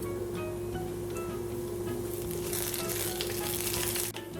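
Cumin, fennel, mustard, fenugreek and nigella seeds fry in hot oil in a pan, giving a steady close sizzle that grows into brighter crackling spatter toward the end, with no voices.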